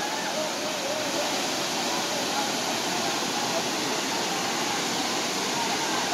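Gandahathi waterfall in Gajapathi district, Odisha, roaring as a steady, loud, unbroken broadband rush of falling water, close by and constant throughout.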